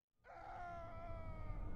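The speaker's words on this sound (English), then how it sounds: "Oh, I think I heard someone scream." Distant scream in the horror game Missing Hiker, a faint drawn-out wailing cry that rises out of silence and holds steadily, alone with no talk.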